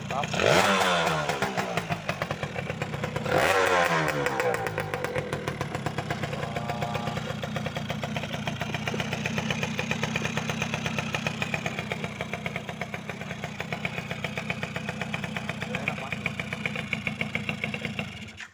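A 2004 Yamaha F1ZR two-stroke motorcycle engine starts and runs at a steady, buzzy idle, with a couple of sharp revs near the start, close and loud throughout.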